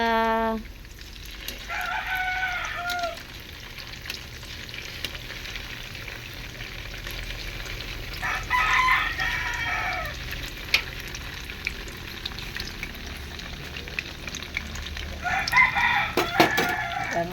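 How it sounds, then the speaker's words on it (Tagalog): Tofu frying in a pan gives a steady soft sizzle throughout, while a rooster crows clearly several times in the background. "malapit na pong maluto ang ating tokwa"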